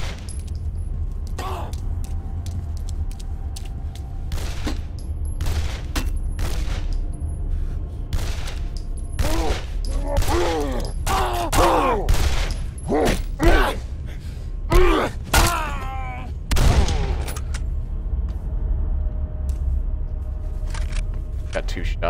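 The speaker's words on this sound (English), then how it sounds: "That was another gun sound." Gunshots in Condemned: Criminal Origins, several sharp separate cracks scattered among groans, gasps and dense game ambience, with a person talking throughout.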